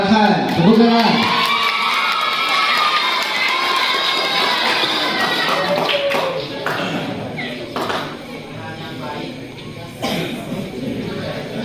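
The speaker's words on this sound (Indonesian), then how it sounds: "Juara pertama diraih oleh Ananda Muhammad Farhan. Tepuk tangan." An audience at a santri Quran recitation (MTQ) competition cheers and claps for the first-place winner, with children shouting and whooping in a loud, lively crowd din. An announcer's voice rises above it.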